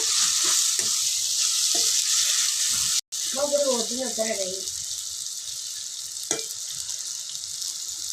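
Potatoes frying in a pan, a steady loud sizzle throughout. Brief clatter and a short tonal sound about halfway through.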